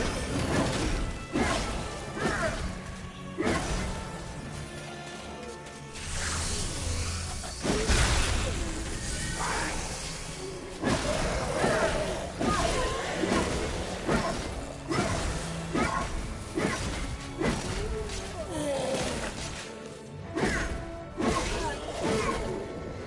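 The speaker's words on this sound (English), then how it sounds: "Oh yeah, I'm smashing him with the hammer." Repeated hammer smashes against an enemy in the MediEvil video game, loud crashing and whooshing impacts in a dense, irregular series over a constant bed of game noise, with a voice talking at times.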